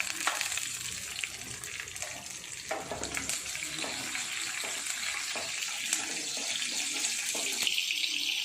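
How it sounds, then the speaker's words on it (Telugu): Tempering spices crackling in hot oil, a steady close sizzle with scattered sharp pops and spits running throughout, no talk. "పోపు చిటపటలాడుతుంది కదండి."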